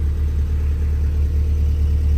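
A Honda car engine idles steadily up close, a smooth, even low rumble with no misfires or surges throughout.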